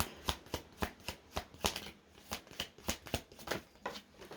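Tarot cards are shuffled by hand in a quick series of crisp riffling flicks, about a dozen evenly spaced bursts, close up and fairly quiet with no talk over them.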